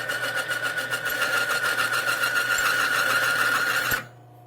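A Timken bearing test machine spins a dry bearing under added weights, giving a steady loud grinding whine with a hum beneath, until it abruptly seizes and cuts off near the end.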